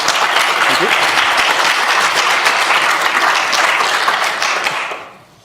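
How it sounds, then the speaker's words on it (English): An audience at a software developers' talk breaks into a big round of applause, dense and even clapping for several seconds before tapering off quickly. "Please give a big round of applause."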